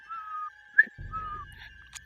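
A human voice whistles to imitate the Saci of Brazilian folklore, producing thin, sustained high whistle tones in short phrases, faint and close, with a brief breathy burst and low rumble partway through.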